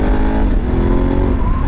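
A tall motorcycle ridden on Quezon Avenue pulls hard under open throttle, its engine drone steady and loud close by, with layered harmonics rising slightly as it accelerates, alone without talk.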